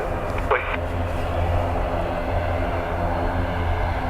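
An airplane taking off at Dublin Airport, a steady broad jet roar heard from a distance, continuous and fairly loud, with a faint short voice near the start.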